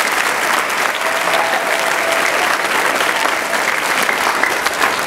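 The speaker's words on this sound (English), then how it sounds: "About a round of applause for Cameron Burton." Steady, loud applause from a crowd at a school spring band concert, sustained clapping throughout with no pauses.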